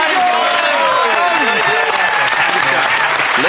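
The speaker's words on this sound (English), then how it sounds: "Please give him a big round of applause" Studio audience applause on a comedy news program, loud and sustained throughout, with a presenter's voice and music tones running over the clapping.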